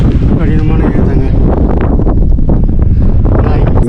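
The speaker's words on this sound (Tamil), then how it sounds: "இங்கு மரம் செடிகள் ஏதும் இல்லாததால கடும் காத்து சுழன்று அடிக்கும்." Strong wind swirls across the treeless slopes of Pothigai Malai, a mountain on a 2025 trek, roaring steadily and loudly into the microphone for the whole stretch, with gusty buffeting and no clear pauses.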